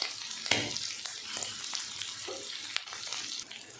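Green chili paste sizzling on a hot tawa while tawa kaleji (fried liver masala) cooks, a steady soft frying hiss broken by a few sharp spatula clicks and small pops, close and moderately quiet.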